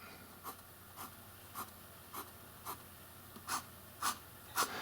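Hero 359 fountain pen nib writing on paper, producing a series of short scratchy strokes at a steady pace, close and fairly quiet, with no talking.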